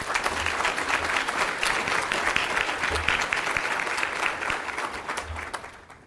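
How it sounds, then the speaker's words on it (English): An audience at a public service recognition ceremony breaks into sustained applause, dense clapping that holds steady for several seconds before tapering off. "Let's give them all a round of applause."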